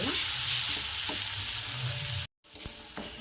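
A vegetable masala with gram greens fries and sizzles steadily in a pan, a close, continuous crackle with light stirring scrapes, broken by one brief silent gap.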